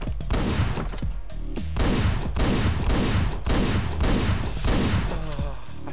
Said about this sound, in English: The automatic shotgun.